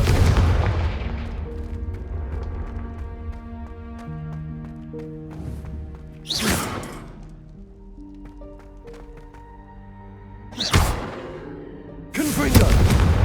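Confringo blasting spells cast in Hogwarts Legacy, a few loud bursting blasts spaced several seconds apart over a sustained musical score, each one sharp and prominent.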